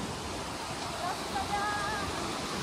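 Rushing water from a waterfall makes a steady broadband roar. It is crowded on a Sunday, and faint whistle-like tones drift over the constant wash of water.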